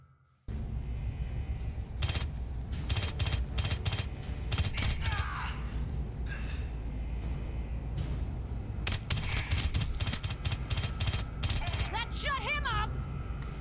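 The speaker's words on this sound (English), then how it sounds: "this little submachine gun does pack a little bit of a punch" Submachine gun fire in a sci-fi alien shooter video game: rapid, sustained bursts crackle loudly through most of the stretch, a dense rattling fusillade, with a voice speaking briefly near the end.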